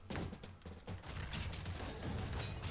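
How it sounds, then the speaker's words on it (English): Cannon fire from a boss in the Castle Crashers video game: dense, continuous booming and rumbling explosions, loud and close, with no talk over them. "he's launching cannons that are, you know, gonna fall on you if you don't."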